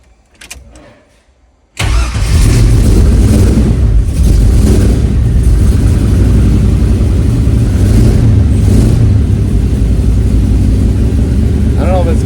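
A car engine cranks briefly, then catches and roars into loud, steady revving that holds for more than ten seconds with rising and falling pitch. The engine is very close and dominates, and speech may be buried under it.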